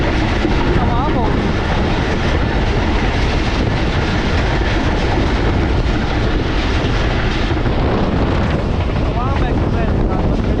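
Awam Express train clattering along the rails near a railway station, a loud, steady rumble that continues throughout with no pauses.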